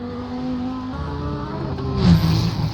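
A GT race car engine drones steadily at qualifying pace through a chicane and final corner of a race track, the pitch shifting as it works through the gears, loud and close with no talk over it.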